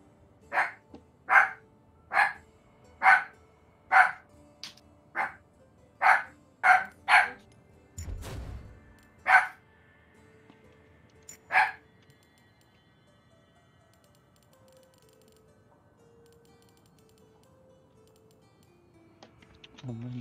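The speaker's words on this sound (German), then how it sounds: "Ein Hund." A dog in the video game Vermintide 2 barks about ten times in a steady, evenly spaced rhythm, loud and clear, then falls quiet apart from faint game sounds.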